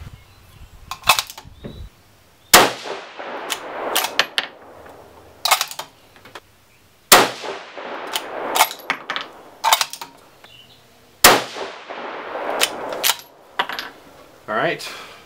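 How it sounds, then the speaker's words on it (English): Three rifle shots fired with Superformance ball-powder loads, each a sharp loud crack with a decaying tail, separated by several seconds of quieter mechanical clicks and handling noises. "Okay, we're gonna load them in and shoot them. Okay, 3 rounds of Superformance here."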